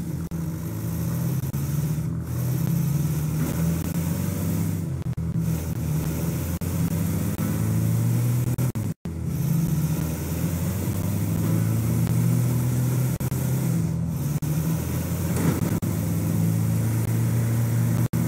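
A van's engine drives steadily in GTA V during a bank robbery, a continuous mid-pitched drone that holds loud and even throughout, with a brief cut midway.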